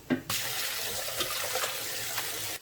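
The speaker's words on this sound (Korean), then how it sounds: "물기를 꼭 짜야 돼요. 하나도 없이." Water pours and splashes steadily as boiled mugwort is squeezed out by hand, a continuous close gush after a brief knock at the start, with no talk.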